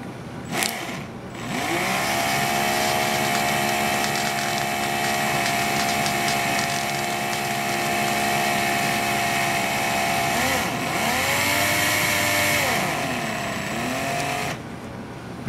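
A cordless battery drill spins a 1/8 by 1¾ inch roll pin to roll micro log books for geocaching, giving a steady, close motor whine that runs about thirteen seconds with one brief dip and rise in speed, no voices.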